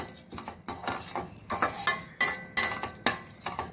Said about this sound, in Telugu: మినప్పప్పు బాగా వేగాలి